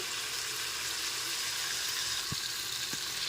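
Ground spice paste sizzling steadily in hot oil while cooking ghugni, a continuous close fry hiss with a couple of faint spoon knocks near the end.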